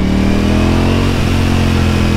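A 2018 Ducati Panigale V4 sport motorcycle engine roars loud and steady at high revs at full throttle, droning continuously up close without letup.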